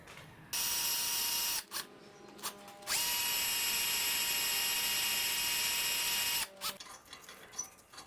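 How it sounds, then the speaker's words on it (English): A power drill whirs at high speed in two long bursts during front brake disc replacement on a 2005 Honda Jazz, stopping briefly between them, with clicks and handling noises after it winds down. "But I need to keep drilling."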